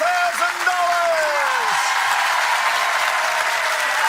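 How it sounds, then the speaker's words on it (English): Steady applause from a game show studio audience fills the clip, with a sliding musical tone sweeping down at the start. "Give Andrew a big round of applause on Pickram"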